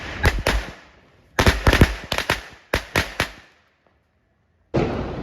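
Firecrackers at a Dev Diwali celebration burst close by and loud: a pair of sharp bangs, then two quick clusters of several cracks each, a silent gap, and one last crackle burst.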